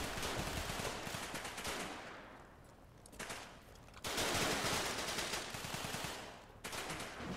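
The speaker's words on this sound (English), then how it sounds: "Suppressing fire time." Sustained automatic rifle fire in the Pacific-theater war game Running With Rifles, long dense bursts of rapid shots broken by a brief lull, loud and close with no voices over it.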